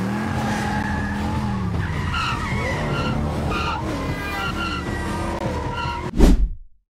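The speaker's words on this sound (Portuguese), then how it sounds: "podemos ver Ricardo dirigindo de forma totalmente imprudente no episódio A Senha" A cartoon car skids and screeches in a sustained tire squeal during reckless driving, loud and close with engine noise, ending in a sudden sharp crash-like burst before cutting to silence.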